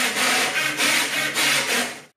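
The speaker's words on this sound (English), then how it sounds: "the linear motors sound quite different to a stepper motor at this pace" Linear motors of a Magneto X 3D printer running at high feed rate, giving a loud, rasping, buzzy whir in repeated rhythmic bursts that ends abruptly.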